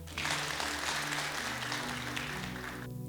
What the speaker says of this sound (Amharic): ለራሳችሁም አጨብጭቡ።